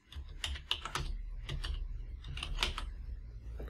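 Typing on a computer keyboard, a quick run of soft, close key clicks in irregular bursts with brief pauses.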